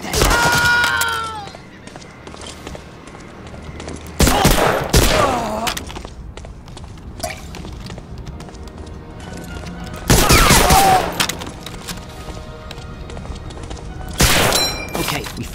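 Gunfire in the video game Medal of Honor: Allied Assault comes as loud bursts of rapid shots in several separate volleys, with quieter game sounds and brief voices between them.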